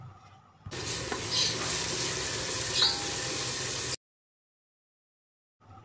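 Ginger garlic paste fries in a pan for a kadhi pakora curry, a bright sizzle with stirring scrapes that starts abruptly, holds steady for about three seconds, then cuts to silence.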